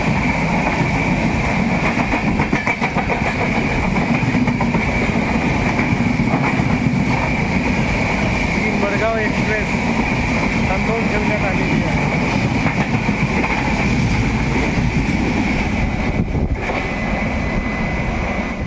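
Near and loud, a Mumbai-bound train passes the stationary Nagpur–Madgaon Express in one long, unbroken rumble with wind buffeting the microphone and people talking beneath it.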